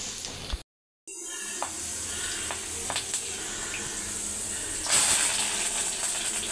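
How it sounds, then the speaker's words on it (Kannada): A tempering for flattened rice (avalakki) sizzles steadily in hot oil for several seconds, with a short dropout near the start and scattered clicks and stirring taps on top. "ಅವಲಕ್ಕಿ ಒಗ್ಗರಣೆ ಕೊಡತ್ತೇನೆ"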